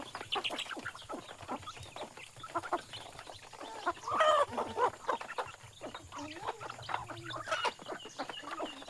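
Chickens cluck and call close by on a rural Thai farm among ducks, scattered bursts of clucking rising and falling over a quiet background.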